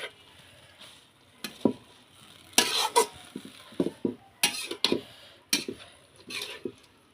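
Leafy greens with green chillies, onion and salt are stirred in a pan: quiet, irregular scraping and clacking strokes of a utensil against the pan, spaced out over a soft background, with no talk.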